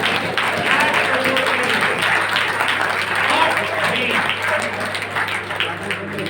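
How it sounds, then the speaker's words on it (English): Audience applause at an entrepreneurial skills session, a steady wash of many clapping hands with a low hum underneath and some voices mixed in. "Can you give a big round of applause for that?"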